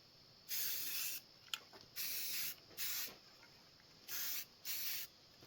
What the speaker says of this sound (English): I've got filler primer, high build formula. I'm going to spray it on them rough spots